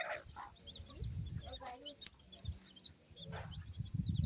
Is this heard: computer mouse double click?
no